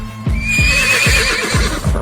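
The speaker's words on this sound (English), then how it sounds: "This is a horse." A horse whinnies loudly and alone, a bright wavering neigh over a run of regular hoof clip-clops.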